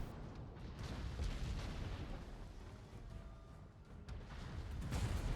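The main guns of the Japanese battleship Izumo fire a salvo in World of Warships: heavy, rumbling booms roll continuously through a dense, noisy battle soundscape without a clear break.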